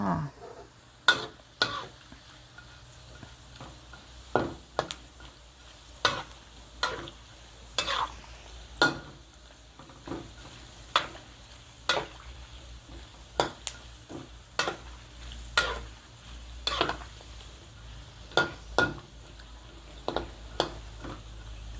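Pork rinds frying in a pan over lowered heat, a soft sizzle under regular sharp scrapes and stirring clacks of a utensil against the pan, repeating every second or so.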